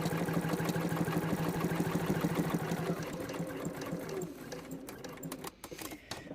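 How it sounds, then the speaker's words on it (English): A sewing machine stitches marked shirt fabric in a fast, steady whir for about four seconds, then slows and stops, followed by faint handling clicks. "I'm just going to stitch up where I've marked the fabric up to the top."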